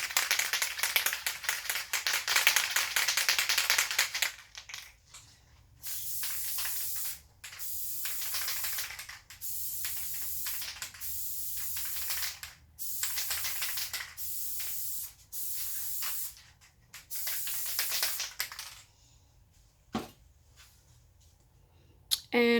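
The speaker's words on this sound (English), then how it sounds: "I'm just going to spray even layers all over this cup." Spray glue from an aerosol can is sprayed in even coats onto a tumbler cup for a glitter craft, coming as a series of loud, steady hissing bursts of a few seconds each, separated by short pauses, with no talking.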